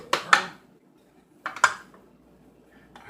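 A utensil cutting into meatloaf in its baking pan: two separate pairs of sharp metallic scrapes and knocks against the pan, close and brief, with quiet gaps between.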